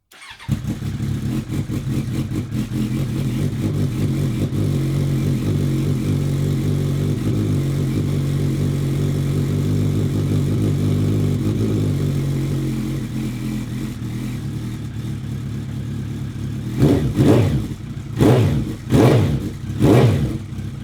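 A Suzuki Bandit motorcycle engine runs after a carburettor restoration. It idles steadily and loudly up close, settles slightly, then is blipped through several sharp revs near the end.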